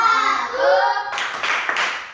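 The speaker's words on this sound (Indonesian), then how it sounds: "Tepuk simbol Pancasila" Children clap along with a Pancasila symbol clapping chant in a primary special-needs classroom; a sustained voiced sound comes first, then a few loud, broad bursts of group clapping follow in quick rhythm.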